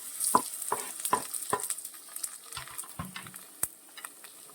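Diced potato and carrot sizzle and pop in a hot pan for Kerala nombu kanji, with sharp crackling bursts and stirring scrapes over a steady close frying hiss, and no speech.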